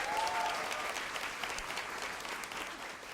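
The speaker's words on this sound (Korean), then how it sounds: "두 번째 강연자 나영석 PD에게 박수 한번 다시 부탁드리겠습니다." Audience applause for the second lecturer, producer Na Young-seok, at a Korean talk show held before a mostly university-student crowd: a dense, steady wash of many hands clapping throughout, fairly loud and even.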